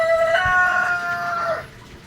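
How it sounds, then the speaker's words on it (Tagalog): A Rhode Island rooster crows once, a loud, close, drawn-out cock-a-doodle-doo that rises and then trails off. "So ito na yung ating mga Rhode Island rooster."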